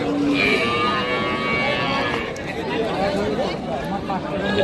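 Cattle, including dairy cows and calves, mooing amid a noisy crowd at the Ambari livestock market in Dinajpur, with people talking, haggling and chattering all around, a busy outdoor market din.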